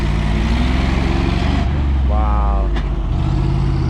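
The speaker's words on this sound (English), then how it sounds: "This is a truck that comes when there's a car crash to clean up the scene." On a wintry road in Kazakhstan, a crash-cleanup truck rumbles past with a heavy low engine drone and a brief higher whine, while people talk and exclaim nearby.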